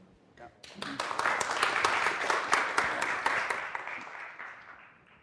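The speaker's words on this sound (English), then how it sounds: "please have a round of applause for Evgeny" Audience applause at a EuroSciPy conference session swells quickly after a brief pause, holds steady, then tapers off toward the end.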